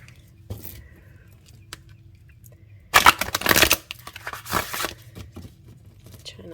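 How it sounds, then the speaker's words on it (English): A gold-edged deck of cards shuffled by hand, a short burst of riffling and crisp flicking near, followed by lighter patting and sliding, with a voice speaking around it. "Let's shuffle the deck."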